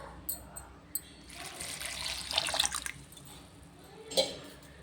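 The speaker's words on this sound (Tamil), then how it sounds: "தண்ணியை ஒரு சொம்பு ஊற்றிக்கலாங்க." Water pours from a jug into a pot in a short splashing stream for about a second, followed by a few faint clinks and a small splash, fairly quiet and close by.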